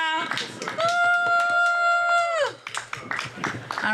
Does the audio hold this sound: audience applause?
yes